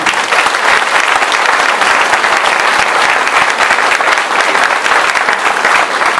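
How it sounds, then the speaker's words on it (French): Loud, dense applause from an audience thanking forest fire protection volunteers, a continuous roar of many hands clapping evenly for several seconds with no voices standing out. "Et je pense que vous méritez un grand applaudissement pour nous protéger."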